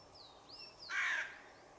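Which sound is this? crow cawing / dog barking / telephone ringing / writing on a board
crow cawing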